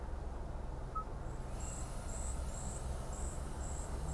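Steady outdoor ambience with insects trilling in repeated high pulses over a low rumbling bed of background noise, no voices.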